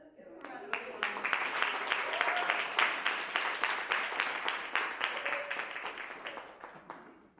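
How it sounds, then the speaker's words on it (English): A panel audience in New York applauds as a co-facilitator is called up, steady many-handed clapping throughout that fades softly at the end. "Let's give him a round of applause."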